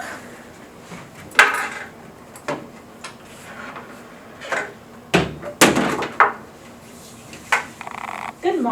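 Knocking on a patient room door in a care setting before a bed-to-wheelchair transfer, heard as a few sharp knocks over a steady background hum in a room.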